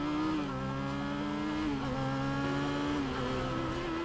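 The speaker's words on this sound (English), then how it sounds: "Crank that throttle!" A motorcycle engine in Final Fantasy 7 Remake, revved hard: a loud, steady, high engine whine holds with small dips in pitch as the throttle shifts, with no talk over it.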